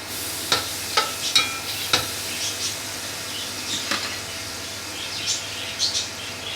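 Butter melts in a pan with half-cooked rice, giving a soft, steady sizzle broken by several sharp clicks and scrapes of stirring, moderately close with no talk.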